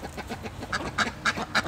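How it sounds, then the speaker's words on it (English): A Khaki Campbell duck quacks nearby in a run of about four loud, evenly spaced calls after softer murmuring, with no talking. "she's a good duck"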